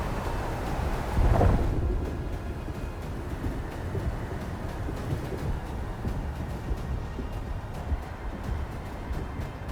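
Thunderstorm ambience from the video game Unknown 9: Awakening, with a loud rumbling thunder burst early on, then steady wind-driven storm noise continuing throughout with no talking.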